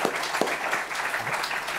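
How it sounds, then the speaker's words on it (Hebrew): Steady, dense applause from an audience at a book launch evening fills the room, a continuous patter of many hands clapping close by. "אנחנו מוחאים כפיים"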